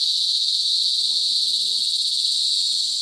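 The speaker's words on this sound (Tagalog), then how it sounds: "Kuliglig, ayun pa oh." Crickets chirp in a dense, shrill, continuous chorus, loud and close, with a faint voice murmuring briefly underneath midway.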